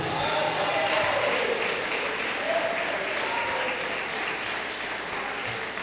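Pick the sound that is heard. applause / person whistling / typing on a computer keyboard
applause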